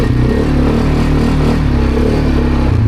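A Bashan 300 quad bike towing a heavily loaded trailer of around two tonnes revs its engine hard, a loud, steady, close-up roar with a rattly, labouring drone and no talking.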